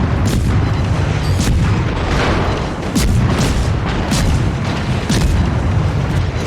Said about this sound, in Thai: ยิงปืนใหญ่ไปก่อนเลย